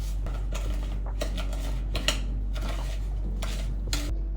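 Baking ingredients being mixed in a bowl, with a utensil clinking and scraping against the sides in irregular bursts, close up over a low steady hum, no voices.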